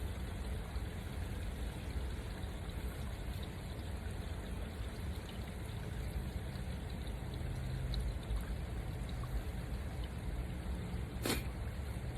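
Steady rushing flow of water flushing out of an RV black water tank, a continuous close gurgling wash that holds an even level throughout, with one brief sharp click near the end.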